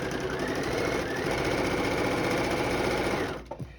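A sewing machine chain piecing fabric blocks runs at a steady, fast, even whir close by, then stops abruptly near the end, leaving a few faint clicks.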